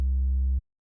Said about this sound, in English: Hardcore tracks often had low-pass filters closing over square waveforms to create a bass sound like this.